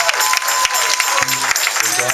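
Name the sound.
congregation hand clap of praise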